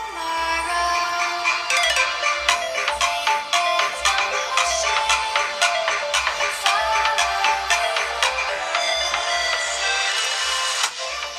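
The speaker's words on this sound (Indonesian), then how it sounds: "ketika kita aktifin Dolby Atmos-nya ada sedikit perubahan kualitas audionya" Music plays loud and steady from the speaker of a Motorola Moto G45 5G smartphone with Dolby Atmos switched on, with bright rhythmic beats throughout.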